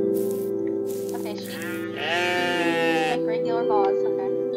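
Sheep in the video game OneShot let out wavering, drawn-out bleats, one long cry in the middle among shorter ones over a steady low game tone, with a voice talking in between.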